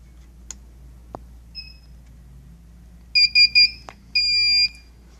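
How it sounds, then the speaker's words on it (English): Solaris infrared barrier giving its audible alignment tone: a few faint isolated clicks, then a cluster of three short loud beeps followed by a longer steady beep, clear and close in a quiet room. "And we also have an audible tone."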